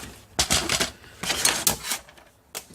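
Kraft paper being cut for a Christmas photo album, several crisp scissor snips and crunchy paper handling in short bursts, close up.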